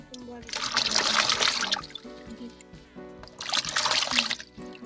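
Leaves are washed by hand in salted water, giving two bursts of splashing and trickling sloshes with a pause between them, close and moderately loud, while someone talks.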